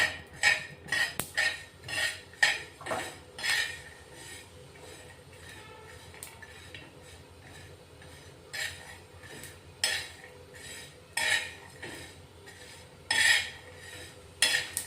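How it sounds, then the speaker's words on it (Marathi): Sesame seeds dry-roast in a pan while a spoon stirs them, giving intermittent scraping clinks of metal on the pan between quieter stretches. "तीळ भाजून घेऊ आता।"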